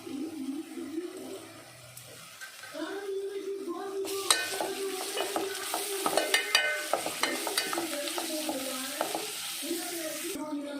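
Onions with rock salt, ginger and garlic fry in a pan for pepper chicken. Quiet at first, the pan breaks into a loud, steady sizzle about midway, with clattering stirring strokes on top.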